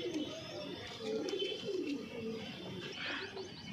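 Green Punjabi Malwai pigeons kept in a loft in Ludhiana, Punjab, coo in soft, repeated throaty rolls close by, with a few light chirps mixed in.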